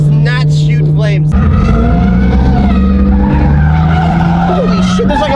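Tires squeal loudly and continuously as a drift car slides through a freeway on-ramp in Fresno during a street drifting session, with engine noise beneath and voices talking over it.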